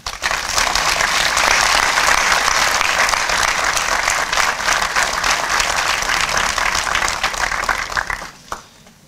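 Sustained applause from a crowd, loud and steady for several seconds before tapering off quickly near the end.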